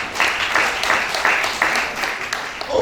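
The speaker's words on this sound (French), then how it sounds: "Acclamons pour toutes ces réponses" A church congregation applauding, dense continuous clapping with rhythmic surges, loud and fairly close, filling the room without pause.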